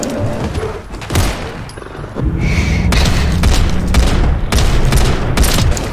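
Rapid bursts of gunfire crack out from a weapon in the Fallout 4 video game, several sharp volleys and booms close by over a rumbling background, with brief pauses between salvos.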